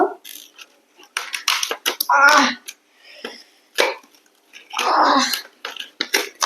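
Clay molds being cut by hand, giving short scraping and crunchy slicing bursts that come in two longer strokes between quieter, intermittent tool sounds, heard up close.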